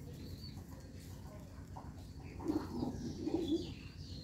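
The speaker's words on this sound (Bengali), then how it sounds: "আর এদিকে সবগুলো পায়রা খাবার খাচ্ছে" Giribaz pigeons feeding in a coop coo softly, with a few low murmuring coos rising over faint background noise midway.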